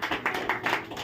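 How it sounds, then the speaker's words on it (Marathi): Congregation at a Sunday church service clapping together, a brisk run of claps in quick bursts for about a second, moderately close with no talk over it. "त्यांच्यासाठी टाळ्या वाजवा सगळ्यांनी."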